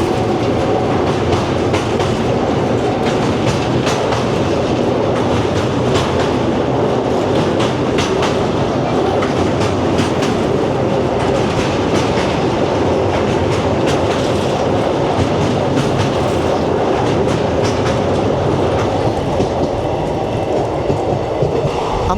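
Teesta Torsa Express (13142) from New Jalpaiguri to Kolkata running on rails, a steady loud rumble with rhythmic clickety-clack of wheels over rail joints throughout, no voices.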